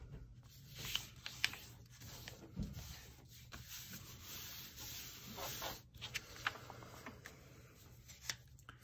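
Soft papery rustles and crinkles as a slightly wrinkled page from packaging is folded for a junk journal, with faint creasing scrapes and small taps close by.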